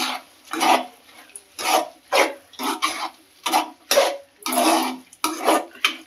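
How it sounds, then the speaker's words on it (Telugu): Soaked moong dal and chopped ridge gourd are stirred together in a pan, giving a run of about a dozen close, raspy scraping strokes in a steady rhythm, with no talk. "ఇప్పుడు దీన్ని ఒకసారి మంచిగా కలుపుకోవాలి"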